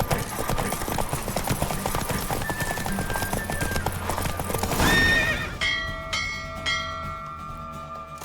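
Horse in The Witcher 3 galloping hard in a race, then pulling up with a loud neigh around the midpoint, followed by ringing bell-like tones as the hoofbeats fade.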